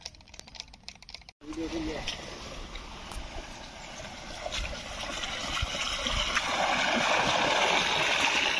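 Water pumped by a hurricane water pump pours out into a pond for irrigation. After a brief rattling start, a steady rushing gush swells and stays loud and close.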